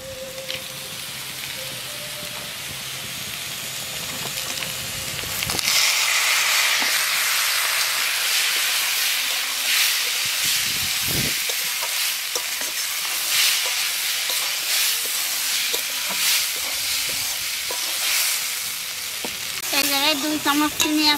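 Dal hits a hot pan partway through with a sudden surge of loud sizzling and frying, then keeps crackling steadily with occasional stirring clinks; a quiet hum comes first, and no one speaks over the frying.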